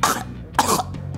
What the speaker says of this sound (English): Okay, turn your head and cough.